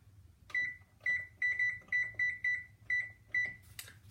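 An oven control panel beeping as it is set to preheat to 325, eight short, sharp, high electronic tones in an uneven rhythm, close and clear over faint room hum.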